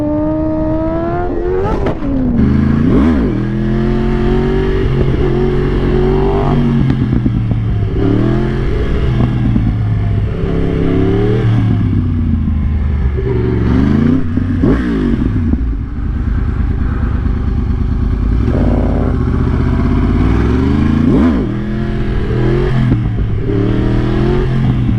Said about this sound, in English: Braz, that's how you wheelie a 1000.